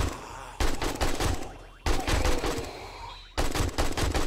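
An AK rifle fires in 7 Days to Die in three loud, close bursts of rapid automatic shots, each lasting about a second and separated by short pauses.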